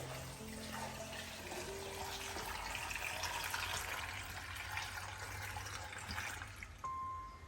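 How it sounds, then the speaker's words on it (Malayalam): Water runs steadily from a tap to fill a cooking vessel for lemon pickle, a continuous close splashing stream with a low background hum. "എന്നിട്ട് ഇത് നിറച്ചും വെള്ളം ഒഴിക്കുക."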